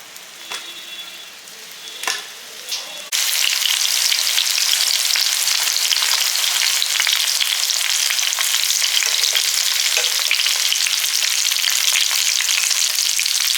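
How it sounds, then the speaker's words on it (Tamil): Brinjal pieces roast in oil in a pan, a few quiet clicks and stirring scrapes at first, then a loud, dense sizzle that stays close and constant to the end. "கத்திரிக்காய் வந்து நல்லா ரோஸ்ட் ஆகிடுச்சு"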